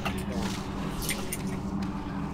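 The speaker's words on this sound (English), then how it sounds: "That's a mechanical keyboard. It's Cherry MX Blue switches. They're clicky." A clicky mechanical keyboard with Cherry MX Blue switches gives a few sharp, close clacks in quick bursts over a steady background hum, with a voice faintly present.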